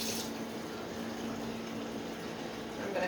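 Tap water running steadily into a container in a home kitchen, a continuous close pour with no talk.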